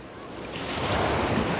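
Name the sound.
small waves breaking on the beach shore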